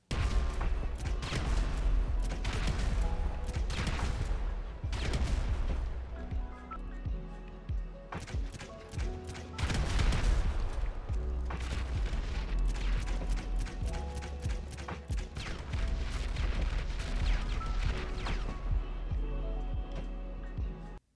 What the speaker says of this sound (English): Blind firing the grenade launcher makes it shoot a lot faster than standard fire.